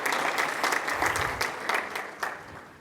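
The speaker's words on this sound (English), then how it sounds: "can we do another round of applause?" A round of applause from the audience at a student leadership awards ceremony, dense steady clapping that holds and slowly tapers, filling the room with no talk over it.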